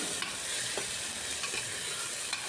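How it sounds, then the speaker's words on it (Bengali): Onion, ginger and garlic fry in hot oil in a pan, a constant low sizzle broken by a few sharp scraping stirs of a spatula, close and without talk. "সব কিছু দিয়ে খুব ভালো করে এটাকে একটু ভাজা ভাজা করে নিতে হবে,"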